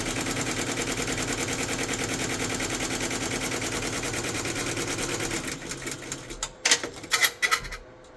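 An embroidery sewing machine stitches a new Iowa Drone Search and Rescue logo with a steady, rapid mechanical chatter for about five seconds. It then slows and breaks into a few louder, separate clacks and thumps.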